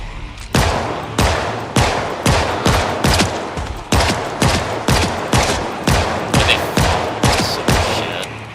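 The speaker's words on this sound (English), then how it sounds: "I'm gonna use my gun for this." A gun fires in a video game with about sixteen loud, sharp shots in a fairly even rhythm. Each report rings out briefly before the next shot.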